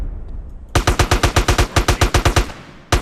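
Machine gun fire in the GTA video game: a loud, rapid burst of about fifteen evenly spaced shots, starting abruptly after a quiet lead-in, then one more shot near the end.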